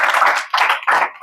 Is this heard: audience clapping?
yes